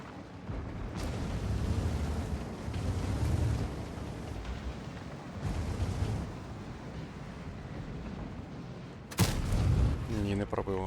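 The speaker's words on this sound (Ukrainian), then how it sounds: "Будемо поки поки що одиночними стріляти." Heavy, booming tank gun shots fired singly in a video game, with rumbling tails a few seconds apart, the last one sharp and loud, with muffled speech mixed in.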